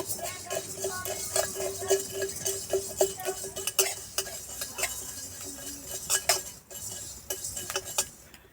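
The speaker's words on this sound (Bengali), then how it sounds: "মৌরে মেথিটা একসঙ্গে ভেজে নেব" Fennel and fenugreek seeds dry-roasting in a kadai, stirred with a metal spoon that scrapes and clinks against the pan in irregular taps, near and fairly quiet, with a faint sizzle underneath.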